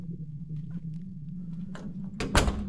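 Rattling door being shaken in the horror game The Crooked Man, a couple of short rough bursts near the end over a steady low game ambience hum.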